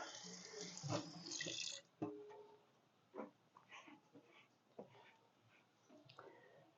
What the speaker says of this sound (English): Let me rinse off my hands now.